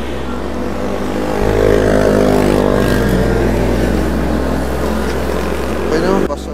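A motorcycle engine idles and revs close by, with a steady low hum that rises briefly to a louder rev before settling back, as people talk over it.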